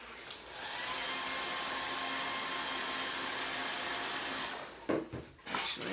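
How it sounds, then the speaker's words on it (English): A hair dryer blows on freshly applied paint on a painted doll face, switching on with a rising whoosh, running at a steady roar for a few seconds, then cutting off, followed by handling clatter. "So I'm going to hit that with my hairdryer real quick."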